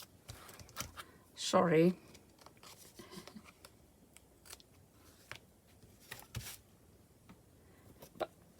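Scissors cutting paper for a junk journal, a few close, crisp snips and rustles in a quiet room, with a brief spoken word partway through.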